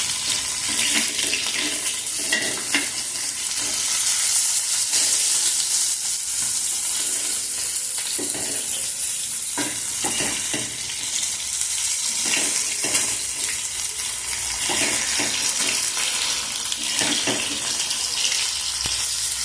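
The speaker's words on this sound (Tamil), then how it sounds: "மீன் ஃப்ரை பண்ணிட்டு இருக்கிறேன்" Fish frying in a pan makes a loud, continuous crackling sizzle up close, with bursts of spattering and occasional stirring or scraping sounds rising and falling throughout.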